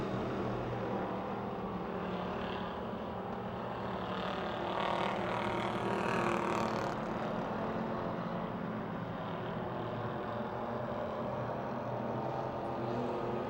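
Race cars lap the Pennsylvania Motor Speedway near Pittsburgh, a continuous, distant roar of engines that swells slightly midway and holds steady throughout, with no clear voices.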